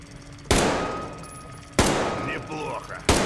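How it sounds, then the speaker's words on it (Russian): Three loud, evenly spaced automatic rifle shots ring out at a shooting range in the Metro Exodus game, each sharp crack fading into a long echoing tail, with a faint voice briefly underneath. "Я не знаю, почему я опять этот автомат достал."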